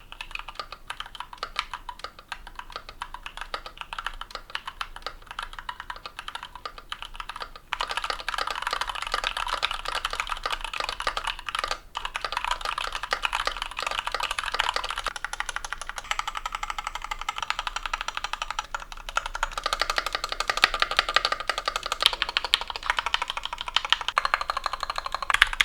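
Continuous typing on a mechanical keyboard fitted with Gateron Yellow switches, a dense run of high, plasticky clacks with sharp upstrokes, close and steady with no voices and growing slightly louder toward the end.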